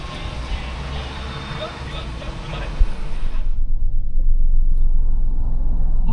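A Suzuki Jimny with 53,000 km on it drives along a road in Japan. A loud, steady low rumble of engine and tyres sits close, and a voice talks over it in the first half.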